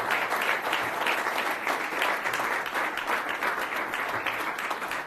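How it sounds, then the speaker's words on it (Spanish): A church congregation applauds in praise to the Lord during a service, a steady, full round of many hands clapping at moderate loudness, continuous throughout with no talk over it. "Fuerte ese aplauso de alabanza al Señor."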